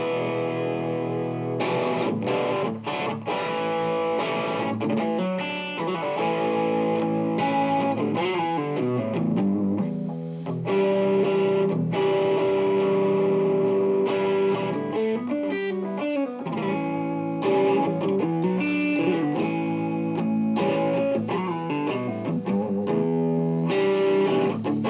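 A small Blackstar Fly3 amp on its gain channel, with gain nearly maxed and volume just under half, driving a 4x12 cabinet: heavily distorted electric guitar plays chugging riffs, sustained notes and chords, loud and alone.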